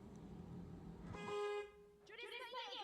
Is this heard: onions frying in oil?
no